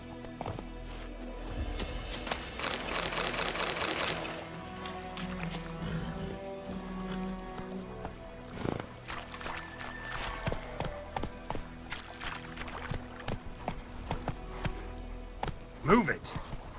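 Roach the horse's hooves clip-clopping in The Witcher 3, a steady run of hoof beats over a busy game soundscape with music, mixed with voices talking.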